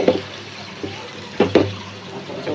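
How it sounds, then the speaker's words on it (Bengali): Water is poured into a pan of potato and dried fish curry with green chillies, giving brief splashing gurgles in a few short bursts over a low steady background hum. "জল দিয়ে দেবো।"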